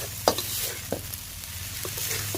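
Glass noodles stir-frying with young cha-om shoots and minced pork, a continuous sizzle with a few soft scraping and tossing knocks from the pan, no talking.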